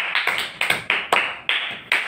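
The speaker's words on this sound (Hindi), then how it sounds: "अब तुम ताली खुद ही बजा लो ना अपनी अपनी" Children clapping their hands, a string of sharp, close claps in an uneven rhythm, roughly nine strikes over two seconds, with no talking.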